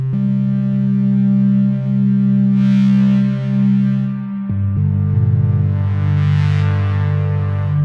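Softube Model 77, a CS80 synth plugin drenched in reverb, plays sustained rich chords with a bright resonant sheen, shifting to a lower chord halfway through, loud and without any voice.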